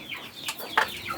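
Hens in a backyard coop give a few soft, close clucks, with one louder squawk midway through a short, quiet stretch.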